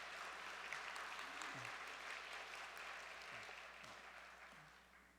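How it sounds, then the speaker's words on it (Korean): Audience applause for a church council chairman returning from a parliamentary leadership conference, a steady broadband clatter of many hands lasting throughout and slowly fading toward the end, with a faint low voice underneath. "박수 한번 보내겠습니다"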